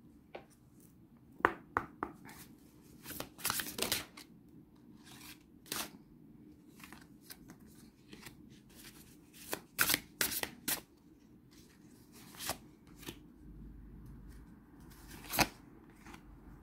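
Oracle cards being shuffled by hand, quiet close riffling bursts and soft card flicks scattered across the stretch with short pauses between them.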